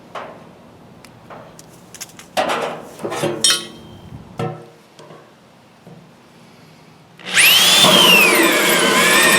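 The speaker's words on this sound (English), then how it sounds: "put your drill bit, your hole driller on there, and let's go ahead and get that drilled out" A power drill whines loudly and steadily near the end while drilling a hole in a plastic trash can, preceded by scattered clunks, scrapes and handling knocks of the bin being moved about.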